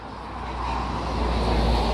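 A Porsche Cayenne drives past at a car meet outside a café, its steady engine and tyre roar swelling slightly as it approaches, loud and close.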